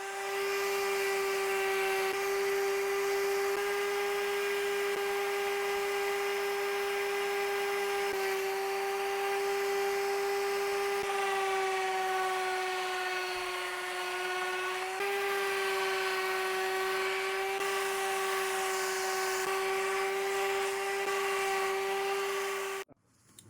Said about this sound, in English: So I'm going to go ahead and start sanding.